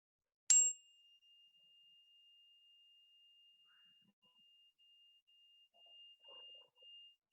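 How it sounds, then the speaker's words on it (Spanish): A single bell is struck once during a mindfulness session, and its bright clear tone rings out steadily for several seconds, slowly fading against near silence with a few faint rustles near the end. "Vamos a escuchar la campana, voy a tocarla una sola vez"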